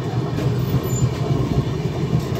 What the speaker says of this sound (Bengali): আমরা চলেছি 12810 হাওড়া মুম্বাই মেলে।